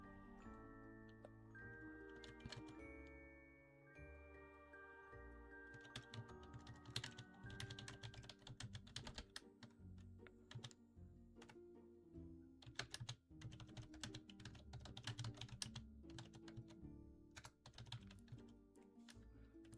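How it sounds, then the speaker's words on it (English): Fast, steady typing on a computer keyboard fills the stretch, dense clacking keystrokes in continuous bursts with brief pauses, close and quiet, no voices. "you guys want some keyboard ASMR while I type out my nightmare"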